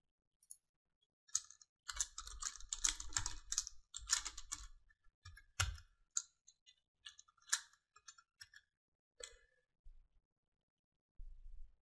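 Bursts of rapid keystrokes on a computer keyboard while text details such as title, composer and copyright are entered into Finale notation software, clicking in quick irregular runs with short pauses, close and fairly quiet, no voices.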